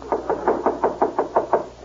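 Someone knocks on a door in a steady run of about eight evenly spaced raps, close and fairly loud, with nothing else heard.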